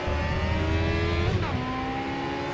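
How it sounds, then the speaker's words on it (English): An Aussie Racing Cars race car engine revs steadily in the racing game Automobilista, with a rough, crackling exhaust, pitch shifting as it changes gear, loud and close with no talking. "I love the sounds, the crackle of the exhaust"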